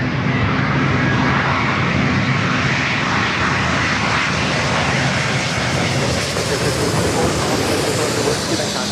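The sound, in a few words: Delta Boeing 767 Heavy jet landing at LAX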